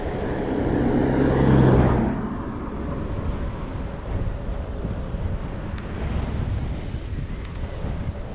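Strong cold wind buffets the microphone on an e-bike ride along a track near a wind turbine, a loud broadband roar that surges early and then continues steadily.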